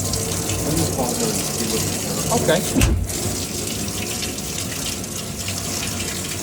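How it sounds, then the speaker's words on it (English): Hot water runs steadily from a faucet at a home with a leaking high-efficiency wall-hung boiler, a continuous close hiss and splash throughout, with a brief voice and a short clunk partway through. "Let's see if we can duplicate that error code. Yeah, let's run some hot water."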